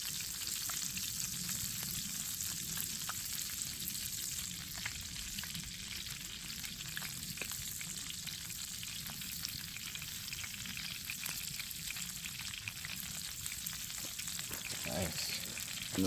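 Steak frying in a pan at a desert winter campsite, a steady crackling sizzle with faint stirring clicks running for a long stretch, close and even, with hardly any talk.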